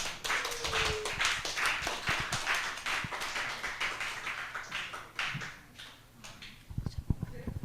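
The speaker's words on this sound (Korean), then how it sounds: "박수" Church congregation clapping in a fairly small group, distinct individual claps rising and thinning over several seconds with a few louder claps near the end and some murmuring voices.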